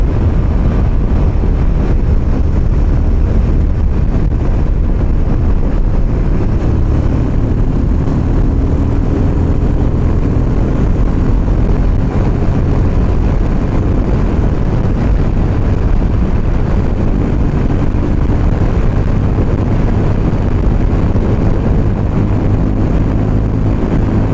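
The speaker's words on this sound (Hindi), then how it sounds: "130 के ऊपर बहुत ज़्यादा विंड ब्लास्ट हो रहा है क्योंकि this place is quite windy" Heavy wind blast buffeting a motorbike at around 130 km/h on a windy road, a loud continuous roaring rumble that stays unbroken throughout, with no talking.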